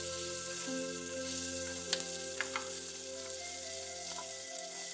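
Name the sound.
onion, mint and coriander sautéing in a pan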